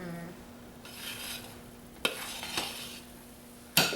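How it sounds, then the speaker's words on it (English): A frothy homemade soap mixture is stirred in a pot, giving soft, airy swishing and crackling bursts that rise and fade, with a few sharper scraping clicks near the end; no one speaks. "stir away. And you see how frothy it sounds?"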